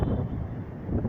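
Steady outdoor wind buffets a microphone, a loud low rumbling roar that carries on without a break and with no talk over it.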